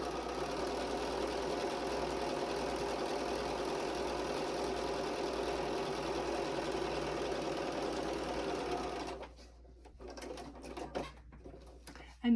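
A sewing machine stitching a quilt seam, running as a steady, fast mechanical whir and chatter for about nine seconds, close by, then stopping, followed by quiet handling noises.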